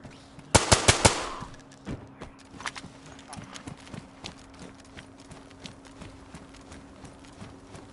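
Gunfire in the survival video game DayZ, a rapid burst of loud close shots followed by scattered single shots and clicks over a steady in-game hum.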